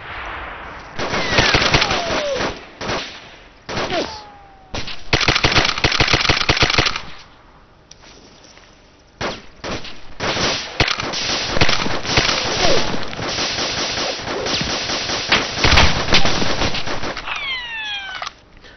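Gunfire and grenade launcher blasts in the ARMA 2 military game, with dense, loud bursts of automatic fire and repeated explosions running through the scene, broken by short quieter gaps.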